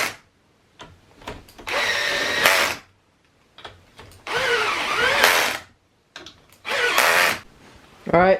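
A power drill runs in three sustained bursts, whirring and rising in pitch as it drives bolts on a Troy-Bilt lawn mower, with short clicks and quiet gaps between runs and no talking.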